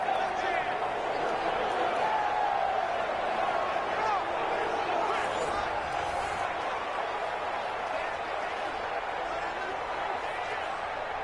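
Madden 20 stadium crowd at a Jacksonville Jaguars versus Houston Texans game, a steady, swelling roar of cheering that runs continuously beneath a commentator's voice.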